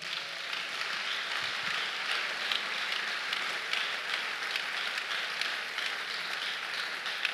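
Church congregation applauding the Lord during a worship service, a steady wash of many hands clapping at even loudness throughout, with no speech over it.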